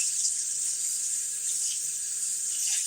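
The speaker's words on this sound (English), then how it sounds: "I rinse it off real good with super hot water." Hot tap water running while a cup is rinsed, a steady soft hiss of flowing water throughout at low level, no voices.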